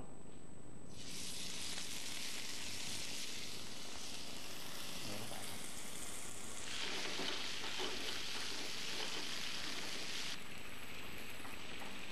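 Stir-frying in a hot wok with oyster sauce gives a continuous moderate sizzle, with bursts of louder crackling and scraping as the food is moved around. There is no talking.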